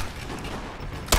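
Sniper Elite V2 gunfire: a single sharp, loud shot cracks at the end after about a second of low, quiet game ambience.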